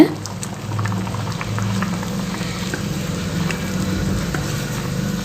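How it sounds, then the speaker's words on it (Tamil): A pot of drumstick masala curry bubbling and simmering close up, soft steady burbling with small pops, no talking. "இப்போ பார்த்தீங்கன்னா குழம்பு நல்லா சூப்பராக கொதி வந்துட்டுருக்குங்க"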